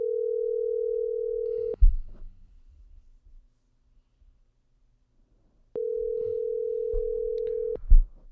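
A telephone ringback tone plays during an outgoing call: two steady, even tones about four seconds apart, separated by quiet and a couple of soft clicks.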